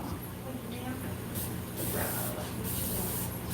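Airbrush spraying paint onto a latex creature suit, a continuous close hiss that swells in short bursts, with talk over it.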